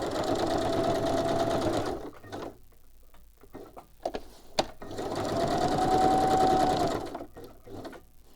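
A sewing machine stitches in two fast, rhythmic bursts with a pause of clicks and handling between them, running close and loud.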